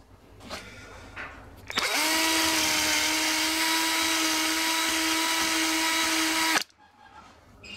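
A power drill bores steadily through a steel dowel pin, a loud sustained whine lasting about five seconds after a couple of brief starts, then cutting off abruptly.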